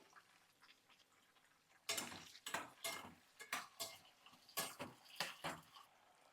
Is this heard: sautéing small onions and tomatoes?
yes